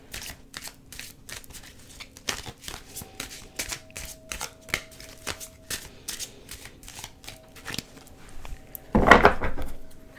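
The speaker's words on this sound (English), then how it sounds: "I'm just going to go ahead and just give them a nice shuffle like this." Tarot card decks being shuffled and cut by hand, a run of quick, crisp riffling flicks and soft taps close up, ending in a louder burst of slapping cards, with no talk.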